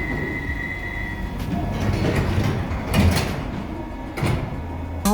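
A London Underground 1972 stock train on the Bakerloo line, driven manually, with loud doors sliding and thudding shut amid steady carriage rumble and a few sharp clunks nearby.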